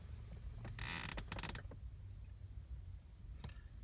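Glove box of a Dodge Caliber SRT4 opening, a close, quiet plastic creak and latch clunk with a few short mechanical clicks, then near silence.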